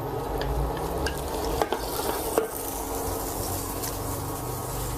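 Butter melts in a pan for a mushroom sauce, giving a steady, close sizzle broken by a few sharp utensil knocks.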